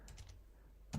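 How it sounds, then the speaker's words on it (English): A few quick keystrokes on a computer keyboard while an email address is entered into a login text field, light clicks spaced close together, then one sharper, louder tap at the very end. "let's just start typing here"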